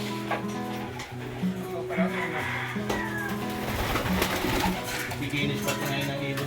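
Pigeons coo in a large loft on Mindoro, with repeated low, soft cooing phrases layered under men's conversation and background clatter.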